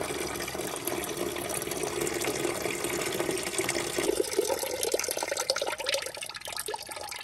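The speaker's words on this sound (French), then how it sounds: "Le soir même j'ai vidé le quad complètement." Water draining and splashing out of a flooded Yamaha Raptor 700 quad, a steady close gush of liquid pouring continuously, with a slight change in tone partway through.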